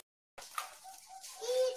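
Caged zebra doves (perkutut) at a bird farm give soft, low cooing calls within a busy mix of farm noise after a moment of silence.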